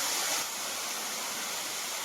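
A steep waterfall reached after a hard walk gives a steady, close broadband rush of falling water, heard alone with no voices.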